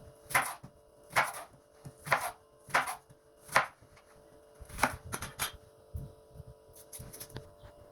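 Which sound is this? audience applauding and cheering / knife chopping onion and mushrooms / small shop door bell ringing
knife chopping onion and mushrooms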